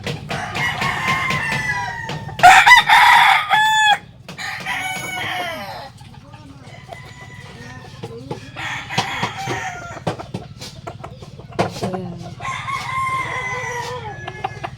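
A pure bulik gamecock rooster on a sparring day gives a loud, close crow, with scattered clucks and shorter calls before and after it over a low background hum.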